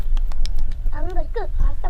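Pigeons kept as pet birds coo in short, throaty warbling calls near the microphone, with nearby talk and soft scuffling.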